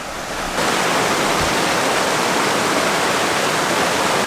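A mountain creek rushes along the Tanglewood Trail toward Rosalie Peak in a loud, steady, broadband flow of water that fills the whole scene after a brief quieter start.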